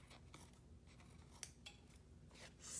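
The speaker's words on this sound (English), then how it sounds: "I'm going to come in and just trim it up" Scissors trim fabric laid on parchment paper for a junk journal, a few quiet snips and a sharper cut near the middle, close up and faint, with no talking.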